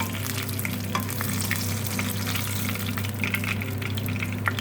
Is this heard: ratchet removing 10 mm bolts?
no